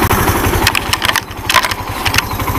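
A Suzuki Intruder 125 motorcycle engine idles steadily up close, a loud even low-pitched throb with faint higher mechanical ticks on top.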